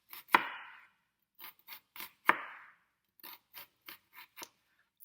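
Knife slicing slits into an onion on a cutting board: a few sharp, crisp cuts followed by a run of lighter, quicker taps, close and isolated in a quiet room.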